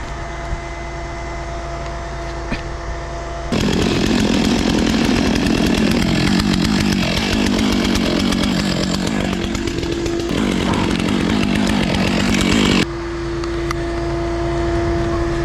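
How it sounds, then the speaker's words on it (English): A STIHL 661 chainsaw fitted with a 36-inch bar runs at a steady idle, then throttles up into a loud, sustained cutting roar and briefly dips before easing back to idle, close by with no talk. "this is a 661 36-inch bar"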